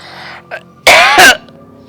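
A person coughs twice in quick succession, loud and close, after softer throat noises.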